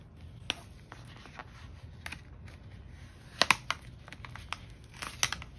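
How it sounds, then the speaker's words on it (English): Heat transfer vinyl being weeded off its backing, quiet crinkling and a few sharp peeling ticks over a low background, with a brief cluster of louder tearing crackles midway. "now we're gonna get ready to weed this out because it cut the vinyl"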